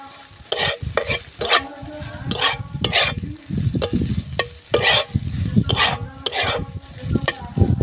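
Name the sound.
stirring egg tomato mixture with pepper and garam masala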